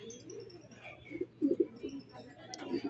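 Racing pigeons arriving at a home loft after a release in Sariaya, with low, soft coos coming in short clusters, several close together midway and another near the end, over light background noise.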